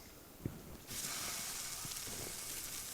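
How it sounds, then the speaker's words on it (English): Sausage hits a hot camp griddle and breaks into a steady, close sizzle after a second of near quiet, with a few small knocks before it starts. "get some sausage onto the griddle to start browning up"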